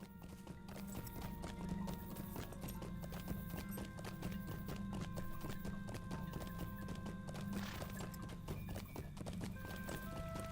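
Horse hooves clip-clop in a steady, even rhythm while riding in the video game Lord of the Rings Online, a continuous close trot held at a faint, constant level.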